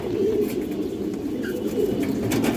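Large, healthy pigeons coo loudly and close by, deep rolling calls that swell and repeat over a continuous throaty murmur.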